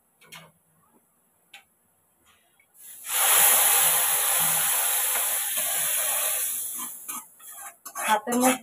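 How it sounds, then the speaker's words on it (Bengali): Fried onion tempering with dried chillies, bay leaf and cumin is poured onto simmering lentil dal. After a few seconds of quiet, a loud hiss bursts up and fades over about four seconds, followed by clinks and handling noises. "এখন পেঁয়াজটা দিয়ে ডালের উপর দিয়ে দেবো।"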